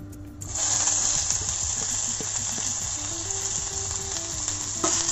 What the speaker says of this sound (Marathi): लवंग, मिरी आणि छोटे दालचिनीचे तुकडे, जो उभा चिरलेला कांदा आहे तो घालून घ्यायचा